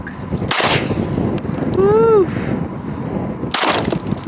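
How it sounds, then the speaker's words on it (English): Glock 19 pistol fired outdoors at a shooting outing: two sharp, loud shots about three seconds apart, each with a quick ringing tail, and a brief whistling tone sounding between them. "Glock 19, ready to shoot."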